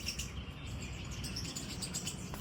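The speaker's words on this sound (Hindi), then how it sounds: "गौरैया चावल खाने आ गई हैं।" House sparrows chirping in quick, light bursts against a quiet outdoor background, fairly faint, with a sharper sound at the very end.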